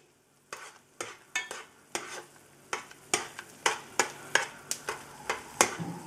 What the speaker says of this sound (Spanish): a moverlo un poco hasta que la mantequilla se vaya derritiendo